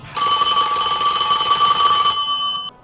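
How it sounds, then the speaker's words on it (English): Telephone ringing, a loud, continuous electronic bell tone heard up close, sustained for about two seconds before cutting off. "When the phone rang"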